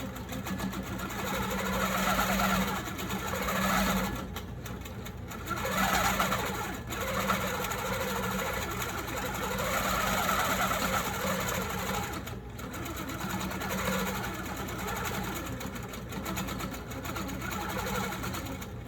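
A longarm quilting machine stitches free-motion quilting through fabric layers, a steady close mechanical hum with a rapid needle rhythm running nearly nonstop, easing in and out with brief pauses.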